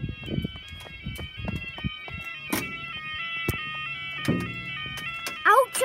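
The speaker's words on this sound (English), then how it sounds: "That alarm is literally just going doo-doo-doo-doo" Maghull level crossing alarm sounding out of tune, a steady stack of electronic alarm tones running throughout, broken by knocks and clatter and joined near the end by a brief rising voice or squeal.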